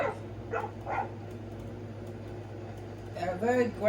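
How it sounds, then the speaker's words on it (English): An aggressive dog in Skyrim barks a few times, with short snarling barks at the start and a louder burst at the end, close by, while someone talks over it. "A very aggressive mean dog that looks like he's about to bite my face off"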